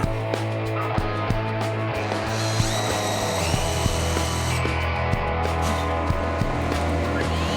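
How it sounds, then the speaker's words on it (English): A power drill bores countersinks into wood, a steady motor whine with repeated short bites and pitch shifts as the bit engages, close and continuous, with no talk. "I countersink the back side of the holes to connect the connecting arm."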